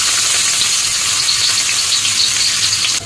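Chopped garlic and ginger sizzle in hot oil as a loud, continuous crackling hiss, close up, with no voices, cutting off abruptly at the end.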